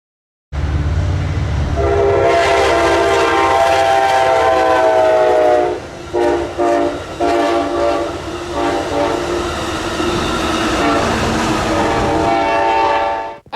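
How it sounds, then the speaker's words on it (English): An Amtrak Blue Water passenger train hauled by a P42 locomotive on the Norfolk Southern Chicago line at Ogden Dunes sounds a long, loud multi-note horn as it rushes past, wheels and cars roaring close by before the sound fades. "The train was actually the Amtrak Blue Water on the NS Chicago line"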